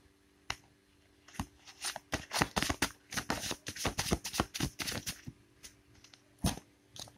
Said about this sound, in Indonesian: Shuffle ulang ya.